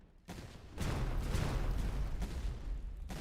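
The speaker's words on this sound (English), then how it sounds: "These cannon shots aren't very good." Cannon fire in an 18th-century war video game: a burst of booming, crackling shots after a brief quiet start, a dense rumbling volley sustained at steady loudness, with another sharp report near the end.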